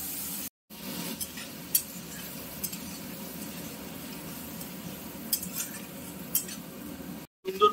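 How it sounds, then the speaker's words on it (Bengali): Ground spice paste for a Bengali potato and paneer curry sizzles in a pan as a spatula stirs it, with occasional sharp scrapes and clinks against the metal over a low, steady frying hiss. "মশলাটা কিন্তু কষাতে হবে।"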